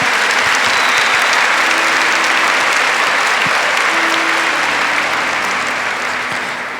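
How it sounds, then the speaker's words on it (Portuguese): Sustained, loud audience applause fills a church gathering at a Catholic retreat camp, steady for about seven seconds before tapering slightly at the end, with no talking over it. "Isso você pode aplaudir."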